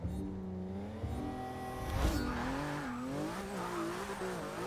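A Porsche 911 GT2-RS launches down a drag strip in Forza 6, its engine note climbing through steady, loud revs with a sharp shift near the middle, and tire squeal threading through the run.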